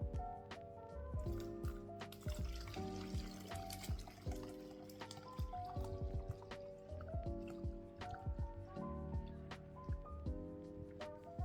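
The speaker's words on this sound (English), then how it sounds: "I'm going to pour it into my yogurt making container." Yogurt mixture is poured into a yogurt maker container, giving a thick, wet glugging with drips and squishy splashes. It continues unbroken over several seconds, close and moderately quiet, with no talking.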